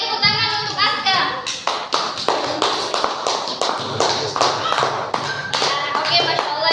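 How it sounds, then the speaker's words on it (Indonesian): A classroom of children claps for a student, sharp, close hand claps in quick bursts with a loose rhythm, mixed with children's voices and a few thumps. "tepuk tangan untuk Aska"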